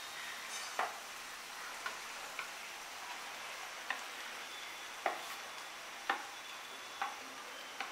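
Noodles with chicken masala stirred in a pan for Kolkata-style egg chowmein, a steady soft sizzle broken by sharp utensil clicks against the pan at irregular intervals, close and alone.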